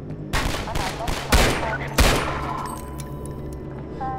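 Gunfire striking the player in the Half-Life 2 video game: a loud, rapid volley with several sharp shots, the strongest cracks coming near the middle, then tailing off into a quieter rumble.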